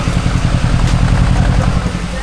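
Audi S7 engine idling roughly in a garage after a rebuild attempt, a steady low mechanical rumble with an uneven pulse, close and loud throughout.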